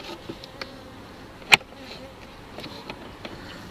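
Honey bees buzz faintly around a hive as a low, steady insect hum, with a sharp click in the middle and a few soft knocks.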